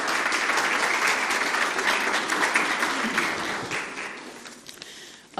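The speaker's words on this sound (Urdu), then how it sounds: "آپ اپنی تالیوں کی گونج میں ہمارے تمام پینلسٹ کا استقبال کریں" Audience applause welcomes the panelists at a literature festival session. Dense, sustained clapping fills the room for about five seconds at full strength, then thins and fades toward the end.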